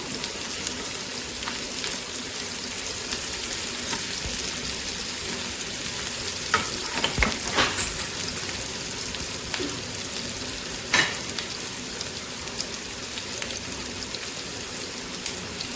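Shallots frying in oil in a pan over a medium flame, a soft steady sizzle with occasional louder crackles and stirring scrapes, fairly quiet.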